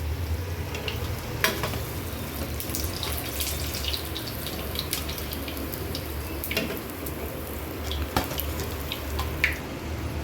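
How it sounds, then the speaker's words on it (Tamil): A round spiral samosa frying in hot oil gives a dense, continuous bubbling sizzle, close and steady, with occasional sharp clicks and splashes as it is turned. "இது ரெண்டு பக்கம் ப்ரௌன் கலர் ஆகிறது வரைக்கும் திருப்பி விட்டு வேக வச்சு எடுத்துக்கலாம்"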